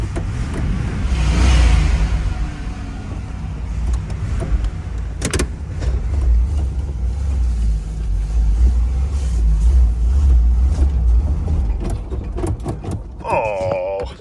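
A Pontiac Trans Am with a non-working choke starts and runs, a steady low rumble of a cold engine close by, with a brief whirring motor sound near the end.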